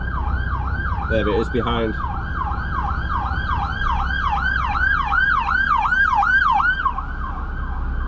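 A wailing emergency siren sweeps up and down in rapid repeated cycles, fairly close and loud over engine rumble, with a brief spoken remark early on.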